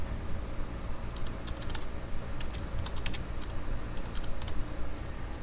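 Steady, fast clicking of computer keyboard keys during data entry in Microsoft Excel, close and continuous for several seconds with no voices.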